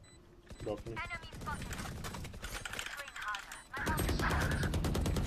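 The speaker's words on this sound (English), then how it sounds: "I got shot through the doorway." Gunfire in the Valorant video game, with rapid shots and bursts mixed with dense in-game effects that build to a loud, sustained clatter near the end, while a player talks over it.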